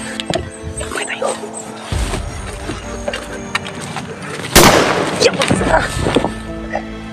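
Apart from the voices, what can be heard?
nearby gunshots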